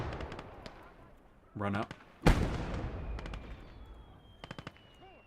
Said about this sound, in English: Okay, they got a mortar up there.